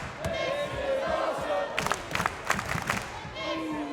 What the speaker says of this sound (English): And you can hear that crowd.